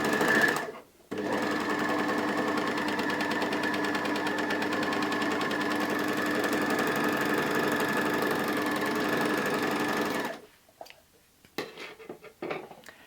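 A 4-thread overlocker runs continuously as its needle-plate blade trims the fabric while it stitches. The steady mechanical whir lasts about nine seconds, then stops abruptly, followed by a few light handling clicks.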